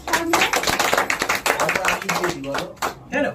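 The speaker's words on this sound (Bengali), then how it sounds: "দীপকে হাততালি দাও।" An audience applauds a theatre director on stage at an awards ceremony in Naihati. Continuous, dense clapping sounds close and lively, with voices and cheers mixed in throughout.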